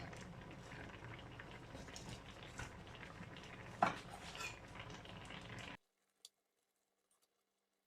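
Dolma, vegetables stuffed and simmering in a white sauce with egg yolk, bubbling steadily in a covered pot for about six seconds before cutting to near silence with a faint clink.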